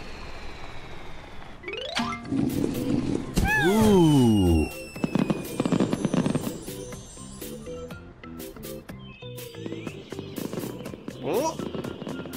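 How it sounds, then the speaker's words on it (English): Cartoon fireworks whistle upward and burst in a string of bright pops and crackles, with musical tones ringing between them. "See those fireworks, Carl?"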